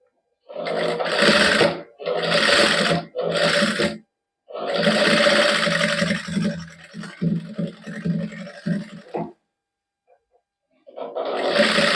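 Sewing machine stitching a designer salwar with lace in a Punjabi boutique, running in several close bursts of a second or two each, then a longer run that tapers into uneven stops, a pause and a final burst.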